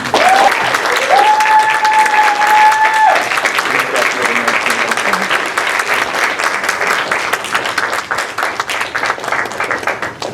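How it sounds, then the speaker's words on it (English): A cinema audience at a film screening Q&A applauds to welcome director Mick Jackson, with loud, sustained clapping that runs for about ten seconds and thins slightly toward the end, with a brief tone or voice early on. "Big round of applause"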